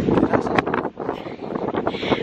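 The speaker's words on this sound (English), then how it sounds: "It's a little bit windy, so I hope you can still hear me." Wind buffets a microphone outdoors among volcanic rocks on Gran Canaria, a loud, continuous rumbling roar that surges and dips briefly, with no voice over it.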